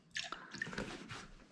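Snow foam liquid pours into a Pyrex jug, giving a short, soft glugging trickle with a few wet drips, quiet and close.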